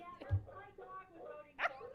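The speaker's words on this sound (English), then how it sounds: "The dog gets the vote now." A dog barks during a county committee meeting, two or three short yips and a bark standing out faintly against quiet room sound, with a voice speaking in the background.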